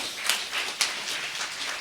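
A church congregation claps along in praise of Jesus, soft, fairly distant claps falling in a loose, uneven rhythm with a couple of sharper accents.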